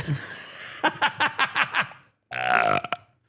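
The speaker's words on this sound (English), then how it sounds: "it was a burp in the laugh" A man's series of short rhythmic laughing grunts runs into a long, loud, croaking burp, close and dry, with a couple of brief chuckles trailing after.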